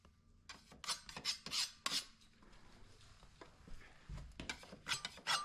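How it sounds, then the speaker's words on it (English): Rapid rasping strokes of hand sanding against drywall plaster, detail sanding at corners, in quick uneven bursts with brief pauses, close and fairly quiet. "That's how I do my detail sanding."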